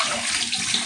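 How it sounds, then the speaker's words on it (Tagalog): Fish being washed under steadily running tap water, a continuous close rush of flowing water throughout with no speech. "Hugasan natin yung mabuti."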